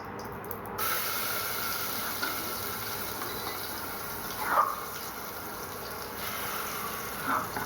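Cumin seeds dropped into hot oil in a home kitchen while making potato chutney, giving a steady soft hiss and sizzle with faint brief crackles, fairly quiet throughout.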